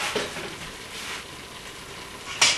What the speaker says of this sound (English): I'm gonna add the sausages in there